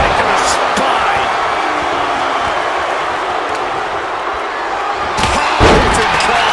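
A hard calf-kick impact in a WWE 2K wrestling video game lands as a single heavy thud late on, over constant loud arena crowd roar with commentary talking throughout.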